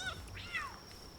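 Cat pal in the video game Palworld meowing, two short close, clear meows in quick succession over a quiet background.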